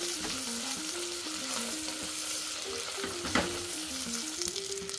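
Onions and a slit green chili sautéing in a pan for paneer biryani, a steady close sizzle with stirring scrapes and one sharper clatter near the middle, no talking.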